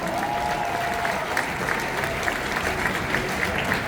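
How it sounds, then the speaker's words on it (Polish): Crowd at a Red Bull speedway event in Wrocław applauding rider Adam Małysz, a dense, distant-sounding wall of clapping with a faint tonal hum beneath, sustained and even throughout. "Dajcie mu oczywiście duże brawa!"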